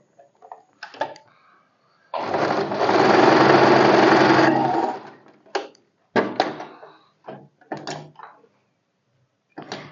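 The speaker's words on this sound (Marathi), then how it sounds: "जेवढा फोल्ड येतो तेवढा स्टिच करून घ्यायचा." A sewing machine stitching a padded princess-cut blouse, with one steady run of about two seconds, then short stop-start bursts of stitching and clicks, close and alone.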